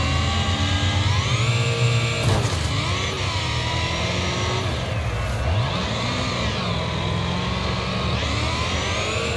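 In the racing game Wreckfest, the Bugzilla car drives on snow at Eagles Peak, its engine revving up and down through gear changes over a continuous roar, loud and up close with no voices.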